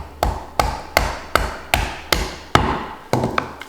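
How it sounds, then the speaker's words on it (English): A mallet strikes through a chicken thigh knuckle bone while trimming competition barbecue chicken, about nine sharp, loud, evenly spaced thuds close by. "take my mallet"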